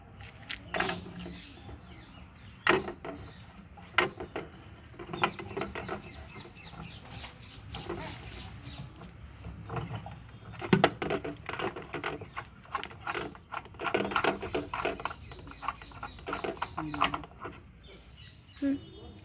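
A ratchet turning the bolt on the spare wheel cover of a Mahindra TUV300, with many rapid clicking runs close by, in uneven bursts and with talking over parts of it.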